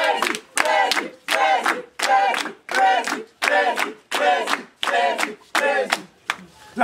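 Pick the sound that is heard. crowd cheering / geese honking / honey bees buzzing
crowd cheering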